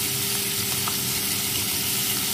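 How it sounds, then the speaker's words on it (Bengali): Crisp fish frying in hot oil, likely hilsa, sizzles steadily and close, a dense continuous crackle with no voices over it. "এই যে ভাজা হচ্ছে করকড়া ভাজা"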